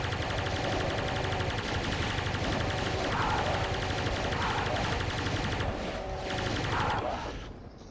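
Plasma rifle fire in DOOM aimed at Hell Knights, a continuous loud stream of rapid energy shots with occasional heavier impacts, cutting off sharply at the end.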